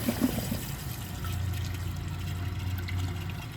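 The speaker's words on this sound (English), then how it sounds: "I'm going to wait for the tank to fill back up, which should be right about now" A 2012 Jacuzzi Perfecta toilet tank refills after a flush test, a steady low rush and trickle of water running continuously nearby.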